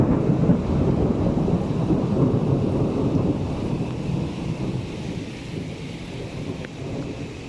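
Heavy rain pours down steadily during a night thunderstorm in Kuwait, with low thunder rumbling through a loud, dense wash of rainfall and some wind buffeting the microphone.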